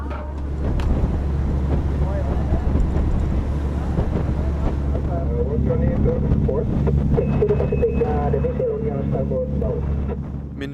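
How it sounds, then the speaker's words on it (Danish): On the sailing school ship Marilyn Anne, storm wind roars steadily across the microphone with a constant low rumble of sea and hull underneath, a dense, unbroken wash of noise for the whole stretch. "når stormen raser og bølgerne går højt"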